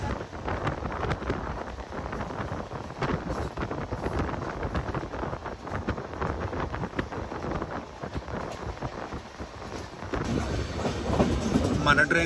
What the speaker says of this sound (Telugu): మన ట్రైన్ ఇప్పుడు సబర్మతి రైల్వే స్టేషన్ దగ్గరలో ఉంది.